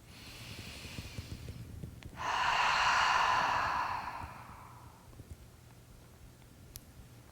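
One slow, deep exhale during a progressive muscle relaxation exercise, a soft, airy whoosh lasting about two seconds that gradually fades, close to the microphone with faint breathing around it.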